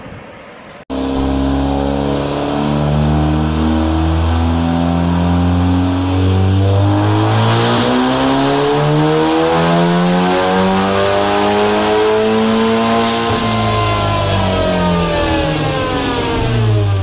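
A tuned MK7 Golf R with an EQT turbo revs hard on a dyno, its engine note climbing steadily through the gears in a loud, continuous pull before easing off, no talking.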